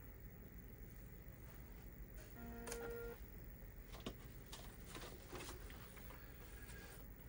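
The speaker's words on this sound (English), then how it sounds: "Turn the printer on." A Coleco ADAM printer switches on with a steady mechanical hum, a brief tonal whir and a few faint clicks, with no talking.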